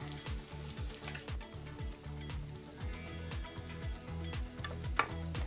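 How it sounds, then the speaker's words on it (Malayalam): Crushed shallots sautéing in a pan, a fairly quiet sizzle punctuated by a steady, rhythmic series of spatula scrapes, roughly two strokes a second, with the occasional light clink and no voices. "ചതച്ച് വെച്ചത് അതിനോടൊപ്പം തന്നെ ഇട്ട് നമ്മൾ വഴറ്റിയെടുക്കുന്നു."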